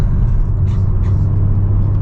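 A 2025 BMW M4 Competition accelerating mildly in sport mode, a loud steady low engine rumble with road noise from inside the car, no talking.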